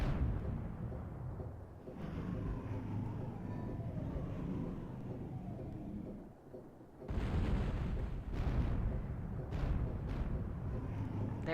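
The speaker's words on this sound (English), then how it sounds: "there's the bombardment" Artillery bombardment in Skies of Arcadia, a steady rumbling roar of distant heavy fire that dips briefly, then returns louder with a few sharper bursts, continuous and without talk.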